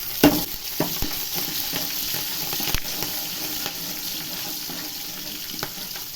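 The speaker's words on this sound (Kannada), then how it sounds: "ಜೀರಿಗೆ ಹಾಕ್ತಿದ್ದೀವಿ. ಇದಿಷ್ಟು ಚೆನ್ನಾಗಿ ಎಣ್ಣೆ ಫ್ರೈ ಮಾಡ್ಕೊಳ್ಳಿ. ಹಸಿಮೆಣಸಿನ್ಕಾಯಿ ಹಾಕ್ತಿದ್ದೀವಿ." Cumin and green chillies frying in hot oil in a home kitchen pan, a steady close sizzle with a few sharp clinks and stirring knocks of a utensil against the pan.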